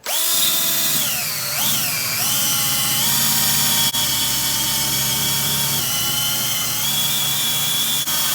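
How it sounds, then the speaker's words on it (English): A power drill whines continuously at high speed, its pitch dipping and recovering as a buffing wheel polishes a 1978 Yamaha YZ125 fuel tank, loud and close. "after a bit of work with the drill and the little buffing wheel"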